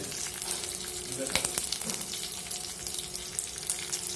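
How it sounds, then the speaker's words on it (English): Green chillies frying in a pan for puffed rice upma crackle and sizzle with dense popping spatters over a constant hiss, close and moderately loud. "So let it fry for some 5 minutes. Now add the mirchi into this."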